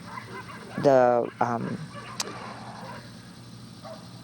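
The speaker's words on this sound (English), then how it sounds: "neighbors let their dogs out." Neighbors' dogs bark a few times outdoors at moderate distance, a short burst of barks followed by a single yip, with a speaking voice nearby.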